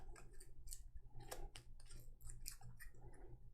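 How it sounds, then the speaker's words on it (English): Cards from Gloomhaven: Jaws of the Lion decks are shuffled in quick, crisp bursts of riffling and clicking, close and quiet with no talk. "I want to shuffle all of these decks here before we start."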